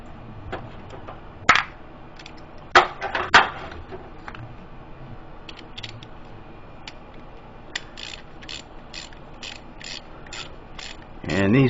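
A ratchet tightens a bolt in the engine bay of a 2007 Saturn Ion during a spark plug and air filter job. A few loud, close clacks come first, then a steady run of quick ratchet clicks with no talking.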